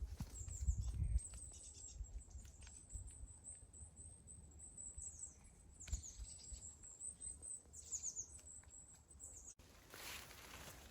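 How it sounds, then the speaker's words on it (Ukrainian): Small birds chirp and sing in a Ukrainian forest during a mushroom hunt, a faint continuous twittering with repeated short high calls over low rustling and footsteps, and no one speaking. "Як пташки співають."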